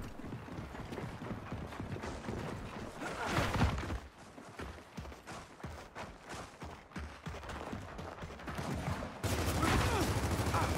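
Rifle fire in Gears of War 4 team deathmatch multiplayer, rapid mechanical clattering bursts with a louder stretch at the end, joined by clicking weapon-handling sounds, with occasional talking underneath.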